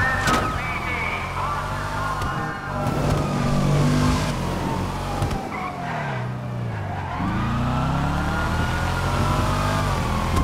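In GTA Online, a getaway car's engine revs hard and rises and falls in pitch while tires skid and squeal through quick turns, loud and continuous, with voices talking over it.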